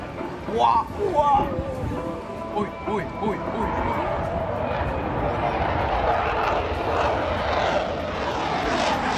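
A Spanish Air Force F-18 fighter jet flies at an air show, its engine roar building into a loud, sustained broadband rush that swells toward the end, with voices heard early.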